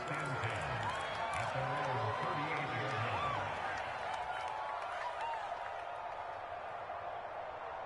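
Continuous stadium crowd noise in an American football video game, a Patriots game on PS4, with a steady broad roar and scattered cheering underneath a commentator's voice throughout.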